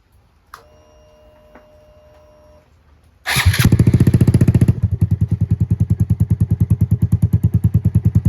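A Honda Grom small motorcycle engine with an aftermarket exhaust cranks and catches with a loud burst, then settles into a rapid, throaty idle pulsing steadily; faint ticks come before it starts.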